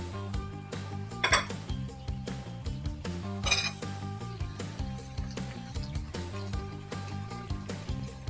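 Metal fork clinks and scrapes against a pan of sizzling Brussels sprouts a few times, sharp close taps over a steady background of faint kitchen noise.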